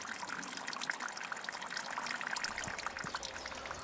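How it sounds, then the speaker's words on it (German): Water trickles and splashes in a small stream along a forest hiking trail in Hesse, a faint, steady babbling with no voices. "Und schon wieder Wasser."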